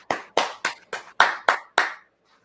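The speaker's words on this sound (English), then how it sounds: "I only have the lame clap" Seven separate hand claps from one person, evenly spaced and close, each a sharp crisp slap with silence between, ending in quiet.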